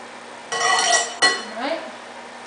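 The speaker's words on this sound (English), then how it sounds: "you want to keep mixing it to make sure that it's well coated" Vegetables tossed and stirred in a bowl to coat them, giving close, loud scraping and clinking of a utensil in short bursts, with a brief clink at the end.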